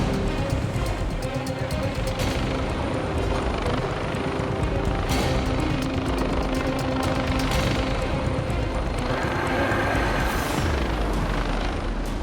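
Rescue helicopter hovering near a coastal cliff during an ambulance rescue, a loud continuous rotor and engine roar with steady thudding that fills the whole stretch, with some talk underneath.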